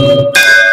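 A temple bell in a Hindu devotional setting strikes once, sharp and loud, then rings on with a bright, sustained metallic tone that sits over the tail of a lower hum.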